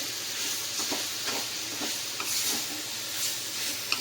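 Konkani-style vegetable curry being stirred in hot oil, a steady sizzle and hiss running throughout with scraping stirring strokes repeating every second or so, close and moderately loud, no voices.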